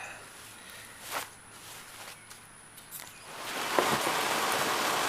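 Rain falling during a spell of minor flooding starts as faint scattered patter, then swells into a steady, hissing downpour for the last couple of seconds.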